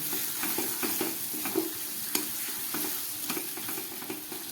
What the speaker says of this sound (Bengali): এবার আরও খানিক্ষণ কষাবো এটাকে সমস্ত মশলা দিয়ে খুব ভালো করে কষিয়ে নিলাম